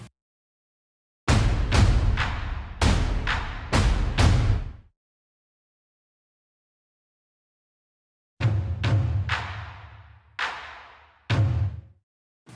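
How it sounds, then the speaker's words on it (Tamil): Layered cinematic trailer drums built from Kontakt sample libraries, including Taste of Fury percussion, hit in two loud groups of booming, decaying thuds separated by silence, with no talking. "இங்கே வந்து ஒரு மூணு லேயர் ஆஃப் ட்ரம்ஸ் நான் யூஸ் பண்ணியிருக்கேன்"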